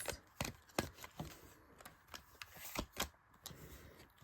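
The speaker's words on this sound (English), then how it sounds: "I didn't shuffle well enough" Tarot cards being shuffled by hand, a quiet irregular series of soft slaps and riffles with uneven gaps, close and faint with no talking.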